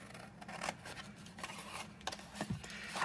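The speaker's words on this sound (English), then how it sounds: "I've had a lot of people ask me where I got this this pair of scissors." Scissors from Stampin' Up snipping through paper for a craft project, a few short crisp cuts up close over a steady low background hum.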